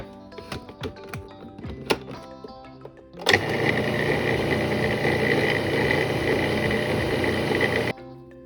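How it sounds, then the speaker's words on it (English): A blender whirs through almond paste made of almonds and pure almond extract. Clicks and clunks as the lid goes on come first, then a loud, steady motor roar for several seconds that cuts off abruptly. "now we're going to cover the lid and we're going to blend it until it holds together"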